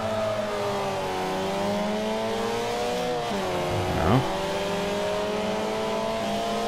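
A BMW 2002 Turbo race car engine in Forza Motorsport 4, racing at Hockenheim, drones loudly and steadily at high revs, dipping briefly as it shifts down before climbing again, with other cars close by.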